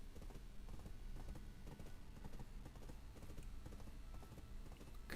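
Horse hooves clip-clop steadily through the whole stretch in the online game Black Desert Online, a soft, even rhythm of hoofbeats with no speech over it.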